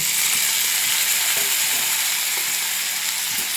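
Tomatoes sizzle loudly in a pan with well-roasted onions, a dense, continuous hiss heard close up, broken by a few faint clinks of a utensil and no speech.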